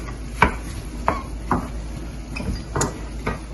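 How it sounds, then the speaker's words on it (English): Chopped onion tipped into a pan of browned mince, heard as a few soft thumps and scrapes of food landing and being moved about, close and fairly quiet with no talking. "So in goes all of the onion"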